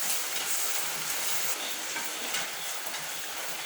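Liver fry with garam masala is stirred in a pan, a continuous close sizzle and frying hiss with scraping stir strokes running steadily throughout.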